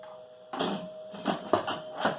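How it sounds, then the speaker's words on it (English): A lid goes onto an Instant Pot pressure cooker holding chicken breast and barbecue sauce, giving a few quiet clunks and scraping rattles close by. "So we're going to put the lid on."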